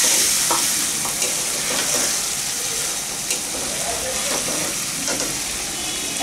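Pieces of meat dropped into a hot pot, frying with a continuous loud sizzle and occasional stirring clatter, no voices.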